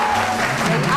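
A studio audience claps for a contestant on a makeover competition show, a brief dense burst of applause heard close with a voice over it.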